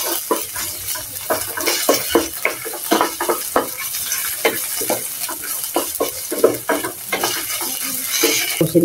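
Tomato paste and carrots for afritada are stirred in a hot pan, a spoon scraping and tapping in a quick, uneven rhythm over a constant sizzle, loud and close with no talking.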